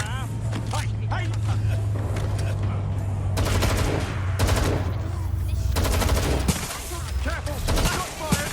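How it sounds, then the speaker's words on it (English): Bursts of automatic gunfire in the Watch Dogs Legion video game, loud rapid rattles repeating through the clip over a steady low engine hum, with game voices shouting in between. "Shot fired!"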